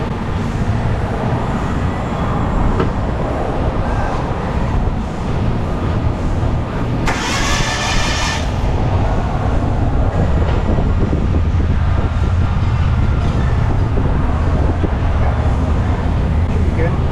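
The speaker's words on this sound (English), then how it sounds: "To crank it over without the spark plug in." A Hyundai Accent engine with an intermittent misfire cranks over with a spark plug removed, giving a loud, steady churning whir throughout, with a brief hissing burst partway through.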